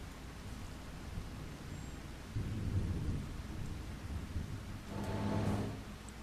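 Steady rain with low rumbling thunder in the Farming Simulator 25 video game, a continuous wash that swells louder around two seconds in and again near five seconds, with no talk over it.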